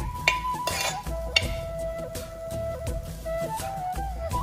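Lentils being stirred in ghee in a pan, repeated scraping and clinking of a spoon against metal over a faint low sizzle, close and steady.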